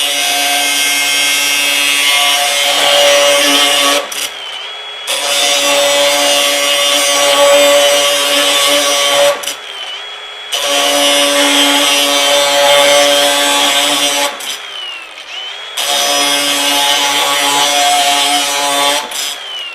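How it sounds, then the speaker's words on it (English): An abrasive cutting wheel slices through solid steel in four long, loud bursts, each a sustained screeching whine with harsh grinding overtones, broken by short silent pauses between cuts. "Okay, now the abrasive wheel and the same stuff."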